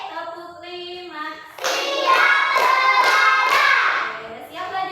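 Class of pupils claps in unison in a rhythmic classroom pattern, a loud multi-beat burst of many hands following a teacher's called count.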